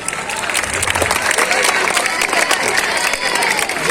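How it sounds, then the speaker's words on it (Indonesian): Students clap at a school ceremony for National Education Day, a dense, steady patter of applause mixed with crowd noise and some voices throughout. "tepuk tangan untuk temannya."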